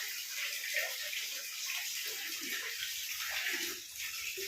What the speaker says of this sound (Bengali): তুমি স্নান করছো